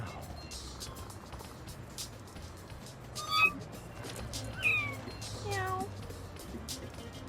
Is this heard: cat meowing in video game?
yes